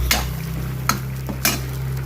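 A spoon stirs Mangalore-style chicken sukka masala with garam masala in a pan. Three distinct scraping strokes stand out over a soft sizzle and a low steady hum.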